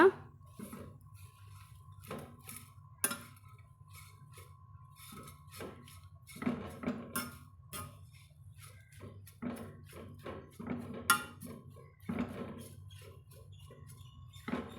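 Greens with onion and turmeric being stirred in a pan over medium heat, giving soft, irregular scraping and clinking taps of a spoon against the pan, fairly quiet throughout.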